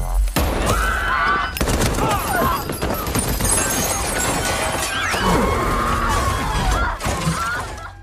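Military robots open fire in a war film scene, with dense, loud bursts of gunfire, crashing impacts and shattering debris running nonstop throughout.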